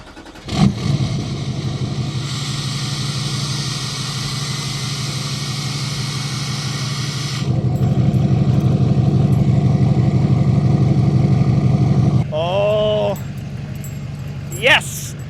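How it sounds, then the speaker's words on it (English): A Duramax diesel pickup truck with its turbo resonator deleted cold-starts and settles into a loud, rumbling idle that runs steadily for several seconds. Turbo whistle and whining notes appear near the end, along with short bursts of other sound. "Realized I need to close my hood to cold start the truck."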